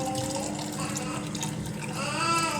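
Hot water poured from a kettle into blended rice for rice fufu, a close, steady gurgling stream with rising pitch as the bowl fills.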